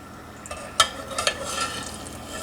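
Corn nuts frying in grease at around 350 degrees, cooked indoors, giving a soft steady sizzle with a few sharper clicks and pops over a low background hiss.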